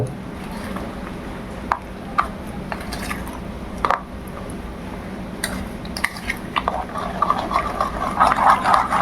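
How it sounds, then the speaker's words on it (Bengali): A spoon stirs sugar and milk together in a bowl for eggless mango cake batter, making steady scraping and clinking against the sides with a few sharper taps. The mixing grows busier toward the end. "এতে আমরা দিয়ে দেবো অল্প পরিমাণ দুধ এবার এটাকে আমরা ভালো করে গুলে নেব"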